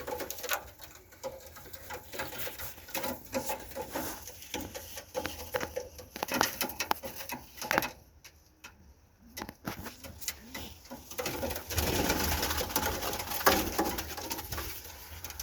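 Turkish takla pigeons coo and flutter close by in strong wind outdoors, with soft patter and rustling that fade briefly midway before picking up again.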